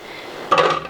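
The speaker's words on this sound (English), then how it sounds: "So I just roughly chop the onion here" A knife chops through onion into rough chunks on a board, a quick cluster of close, sharp knocks after a quiet moment.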